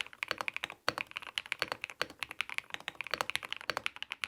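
Someone types quickly on a wireless mechanical keyboard fitted with PBT keycaps and tuned stabilizers, producing crisp, close clacks in rapid irregular bursts with one brief pause, and no voices.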